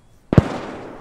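A mortar round explodes in the World War II shooter Post Scriptum, a single sharp, loud blast with a rumbling tail that lingers for most of a second.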